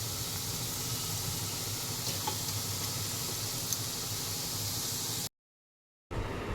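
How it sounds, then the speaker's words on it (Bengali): Hing nimki, asafoetida-flavoured flour crackers, frying in hot oil with a steady, dense sizzle that holds close and even for about five seconds, then cuts out briefly before resuming. "এরম করে করেই ভাজবো"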